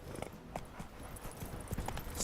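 Roach the horse gallops in Witcher 3, a quick, steady clip-clop of hooves running close and fairly soft, alone with no talk.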